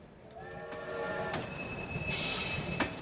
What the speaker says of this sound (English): But here we are in the magic school train.